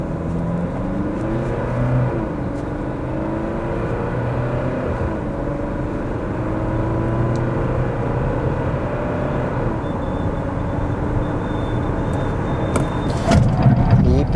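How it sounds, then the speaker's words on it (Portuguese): A 2022 Jeep Compass Longitude diesel 4x4 pulls away normally from a standstill on a track, its engine a steady, droning hum that slowly climbs in pitch, heard from inside the car. "eu não vou estolar o carro, eu vou sair arrancando normalmente"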